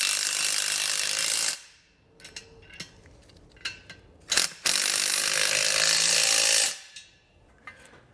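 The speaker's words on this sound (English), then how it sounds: "come back with a 1/2-inch socket and tighten them down" A ratchet fitted with a 1/2-inch socket tightens nuts on a B and W Turnoverball underbed gooseneck trailer hitch, giving two long bursts of rapid, loud clicking separated by a few short, sharp ratchet strokes and clinks.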